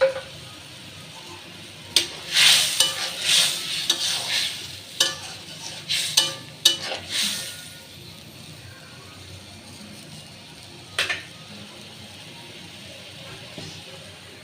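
Bhuna khichuri being stirred and fried in a pan just after cumin powder goes in, with scraping spoon strokes and a soft sizzle that come in bursts early on and then settle into a quieter steady fry.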